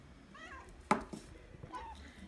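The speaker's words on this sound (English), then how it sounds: "Sorry, I have cats, and when I do videos and cook, they get interested." A house cat meows in a home kitchen during cooking, a few soft, short mewing calls over low background noise, fairly near but quiet, with a faint thump in between.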